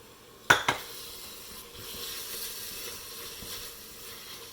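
Onions cooking with salt in a pan give off a soft, steady sizzle, opened by two sharp clinks of a utensil against the pan. A faint scraping of stirring runs under the sizzle, and no one speaks.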